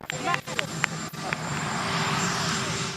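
A helicopter flies overhead at a press gaggle with the president, a steady broad engine and rotor roar that builds and holds, with shouted questions and camera clicks over it early on.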